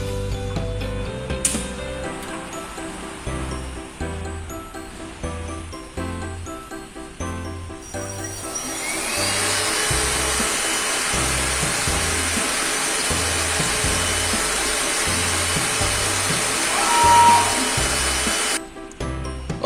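A 5035 Pro S servo flatbed cutting machine powers up indoors, starting with quieter mechanical hum and clicks, then rising into a steady, loud broadband whir of fans or pumps that holds for about ten seconds before cutting off abruptly.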